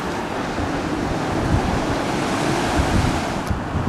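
Ocean surf rolls onto the sand at Holden Beach, North Carolina, a day before Hurricane Matthew, a continuous broad wash of breaking waves mixed with gusty wind buffeting the microphone.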